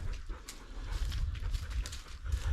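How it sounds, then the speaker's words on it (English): Dogs under a railway trestle over the Little Savanne River make faint panting and whimpering sounds at a distance, mixed with low outdoor rumble and wind. "Dogs under the trestle."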